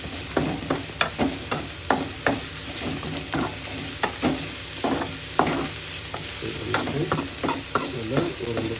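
Something frying in a pan until brownish, with a spoon stirring and scraping in a quick, repeated rhythm over a constant sizzle, close and loud, with no talking.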